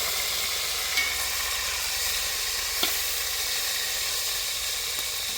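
Jerk pork searing in a hot pan gives off a continuous close, even sizzle with a couple of faint utensil taps, and no one speaking.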